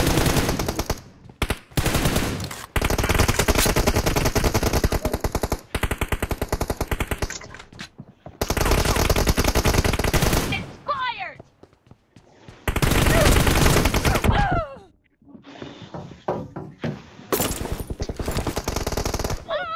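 Automatic gunfire in BGMI during a 3v3 team deathmatch, loud sustained bursts of rapid shots broken by short gaps and quieter scattered rounds, close and dominant, with brief voices in the background.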